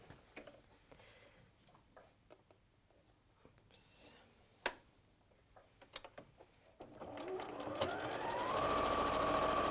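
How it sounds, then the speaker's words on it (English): A sewing machine runs a straight seam on a 3D triangle pillow, starting partway through and building to a steady, loud whir that continues to the end after quiet handling sounds and soft whispering. "I can just whiz down the Straight seam"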